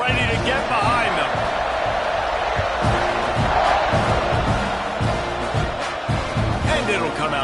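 Stadium crowd roaring at kickoff in the NCAA 26 football video game, a steady dense wall of noise with game commentary talking over it throughout.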